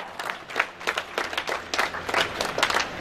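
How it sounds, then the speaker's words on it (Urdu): Audience at a mushaira, an Urdu poetry gathering, clapping to welcome the presiding poet, an uneven patter of hand claps that swells and dips in bursts through the hall. "بلا تاخیر آپ سب کی تالیوں کی گونج میں تشریف لاتے ہیں، کھڑے ہو کے استقبال کیجئے صدر مشاعرہ سر قمر"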